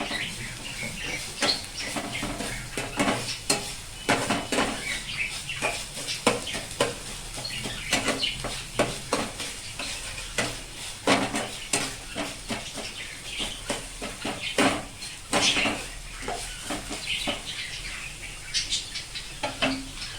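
Onions frying in a pan for palak paneer give a steady, close sizzle threaded with irregular crackles and pops, with no talking.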